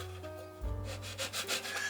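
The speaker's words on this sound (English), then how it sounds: "I can take my medium sanding stick now so I don't take as much material off." A medium sanding stick rubs back and forth across a plastic model starship part, giving several short scratchy strokes close up, with a faint low hum underneath.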